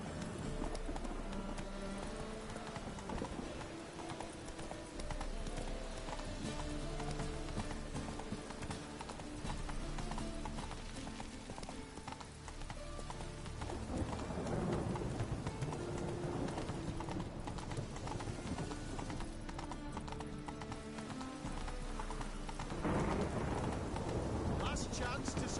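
Roach, the horse in The Witcher 3, clip-clops at a steady gallop-like rhythm that runs throughout, moderately loud, layered with game music, rumbling weather and some spoken voices.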